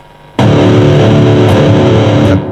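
A loud, crunchy distorted electric guitar chord through an overdriven amp and boost pedal rings out abruptly, held steady and saturated for about two seconds before cutting off.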